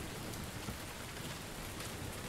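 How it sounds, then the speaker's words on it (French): Heavy rain in the video game Heavy Rain, a dense steady hiss of downpour with scattered droplet taps, unbroken and fairly quiet, with no voices over it. "Alors, il pleut énormément dans le jeu."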